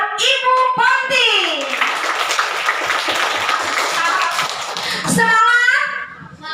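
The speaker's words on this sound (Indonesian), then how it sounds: "Beri tepuk tangan buat Ibu Ponti." A crowd of schoolchildren applauds a teacher at an elementary school assembly for National Education Day. Dense, steady clapping lasts a few seconds, with children's voices and chatter just before and after it.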